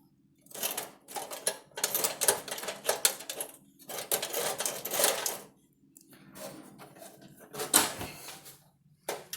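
Intermittent construction work across the road: bursts of rapid mechanical clatter and rattling that start and stop several times, fairly loud, with short quiet gaps between them and no talking.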